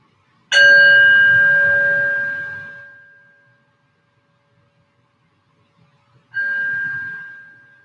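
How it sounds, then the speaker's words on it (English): A bell, struck once, rings out with a bright sustained tone that slowly decays to silence, then sounds a second time about six seconds later, clear and alone, opening a slow flow and yin yoga practice. "as I ring the bell to draw us into our practice"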